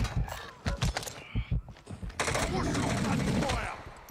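Rapid automatic gunfire from a Warzone match, loud, with short bursts early on followed by a sustained stream of shots, and a voice breaking in briefly.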